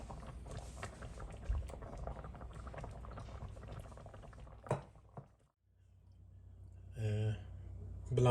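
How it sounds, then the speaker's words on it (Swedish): A pot of rice porridge simmers steadily on low heat, a soft continuous burble with a brief clink and a quieter moment near the end. "Vi låter bara koka på svag värme."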